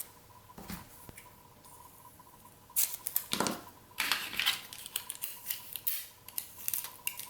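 Scissors snipping through paper for a fall iris-folding decoration, a few close, crisp cuts in quick bursts separated by quiet pauses, with light paper handling between them.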